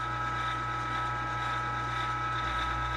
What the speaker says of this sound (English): my new grinder, a Lem number 8 Big Bite